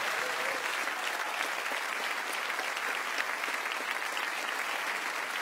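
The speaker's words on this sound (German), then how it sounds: "Deshalb ist dieser Applaus nur gerechtfertigt" Steady, loud applause from a comedy cabaret audience fills the whole stretch, dense and continuous with no voices breaking through.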